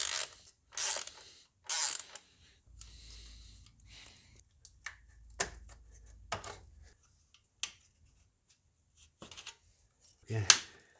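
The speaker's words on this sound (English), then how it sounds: "let's remove this screw." An E7 socket loosening a screw near the coolant temperature sensor on a MINI One engine: sparse, sharp ratchet clicks and metallic taps, close and fairly quiet, with a few brief gaps of near silence.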